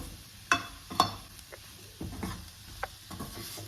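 Onions stirred and roasted in a pan over a low gas flame, with a soft sizzle under sharp scraping and tapping stirs that land in quick bursts, close up and quiet, with no voices.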